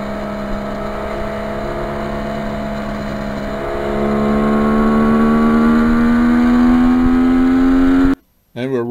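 A restored 1973 Kawasaki H1 motorcycle ridden in windy weather, a loud steady two-stroke engine drone that rises in pitch as it accelerates, then cuts off abruptly.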